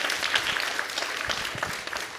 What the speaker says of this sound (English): Please give yourselves a warm round of applause.